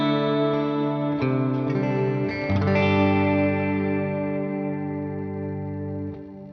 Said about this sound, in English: And as they've just released the shimmer verb, let's choose that shimmer